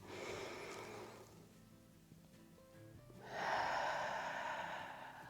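Deep breathing during yoga: one long audible exhale, a pause, then a strong drawn-in inhale, close and breathy, with no talk.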